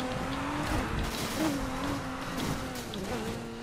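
A racing Aston Martin with an 8-speed gearbox drifts under braking in Need for Speed Heat, its engine note wavering under sustained tire squeal that swells and fades across the skid.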